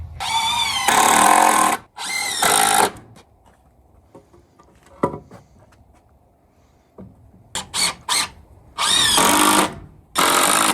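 Hammering nails into wooden supports while building a firewood stand, with loud bursts of banging and power-tool noise separated by quieter stretches holding a few sharp single knocks.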